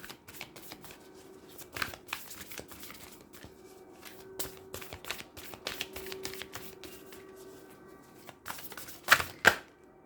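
Moonology Oracle cards being drawn and shuffled by hand, close and soft, with scattered riffling slaps and papery brushes over a quiet background and a couple of sharper snaps near the end.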